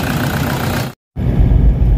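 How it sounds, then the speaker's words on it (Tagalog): A Toyota Fortuner engine with a low-power fault runs steadily and fairly loud, cutting to silence for about a fifth of a second midway before the rumble returns. "So far okay na yung andar ng makina, panalo na."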